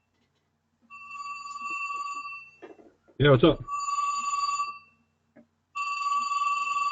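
A phone ringtone rings in repeated electronic bursts, broken by someone speaking briefly before the ringing resumes.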